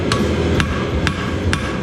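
Four crisp strikes of a hammer's cross peen on hot steel, evenly spaced and close, each a bright clink against a steady low forge rumble.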